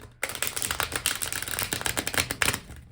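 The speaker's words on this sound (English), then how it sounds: "One more shuffle here." Tarot cards being shuffled by hand at close range, a dense run of quick papery riffles and flicks that starts after a brief silence and carries on with no talk.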